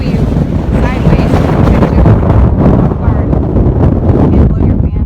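Very strong wind gusting across a hiking trail on the Pacific Crest Trail, a loud, continuous roar buffeting the microphone with heavy low rumble throughout.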